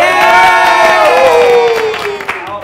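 A studio audience at a storytelling talk show cheers loudly, with overlapping whooping voices forming a brief, bright burst of crowd noise that tapers off after a couple of seconds.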